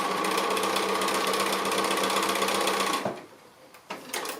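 A sewing machine with a larger needle stitches straight lines in thick decorative thread, a loud rapid rattling hum that runs steadily for three seconds, then stops, followed by faint handling clicks.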